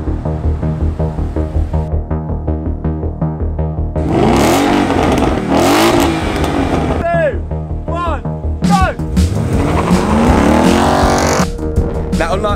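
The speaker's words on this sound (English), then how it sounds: "Next up, Hannah in the Mustang" A Ford Mustang is driven hard around a race track: loud, close engine revving rises and falls through gear changes, with tire squeal and sweeping pitch as it accelerates through corners.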